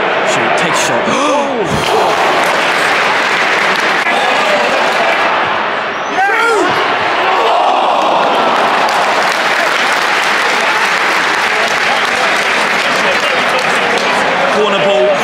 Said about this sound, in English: Crowd are going mad. Crowd are going crazy. Incredible atmosphere here